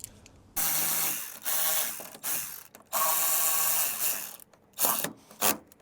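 A ratchet driving screws into the bonnet lock of a crash-damaged Mercedes-Benz: several close, rapid bursts of clicking pawl with short pauses between them as each screw is turned in.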